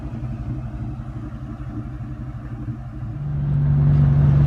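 A 2001 Cobra convertible with a Prochamber exhaust rumbles while driving, a deep steady low-pitched exhaust drone that swells louder in the last second as the revs rise.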